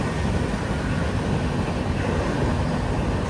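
Visakhapatnam Weekly SF Express 22802 running at speed, a steady loud broadband roar of wheels and rushing air with no distinct beats, heard from on board.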